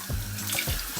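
A bathroom faucet runs steadily into a sink as a man wets his face before shaving, with a continuous close splashing flow and small irregular spatters.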